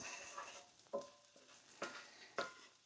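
Long grain rice stirred in a pan for arroz con pollo, with a soft continuous frying hiss broken by a few distinct scraping strokes of the spoon at irregular intervals, close and fairly quiet, no talking.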